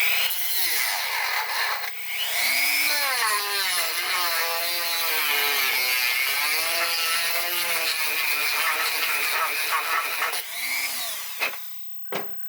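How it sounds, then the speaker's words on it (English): A rotary tool with a sanding burr grinds rough edges off a Nerf Ultra Pharaoh blaster's plastic, a close, high whine that rises and wavers in pitch as it bites, running steadily for several seconds before spinning down and stopping. "I'm going to take our sanding burr and take these rough edges off"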